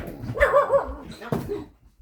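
Puppies being fed, giving excited yips, whimpers and short barks close by, with some voices mixed in across the two seconds.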